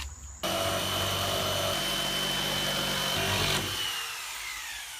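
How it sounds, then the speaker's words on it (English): A jigsaw cuts off the overhang on a garage haunt wall build: a steady, loud buzzing cut of about three seconds that starts abruptly and stops, then fades into quieter room noise. "I just cut it off with a jigsaw."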